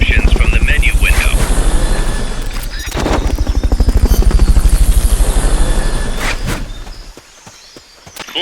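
A loud helicopter in Metal Gear Solid V drones with rapid rotor thumping, close and dominant, with a clunk or two and a fade near the end.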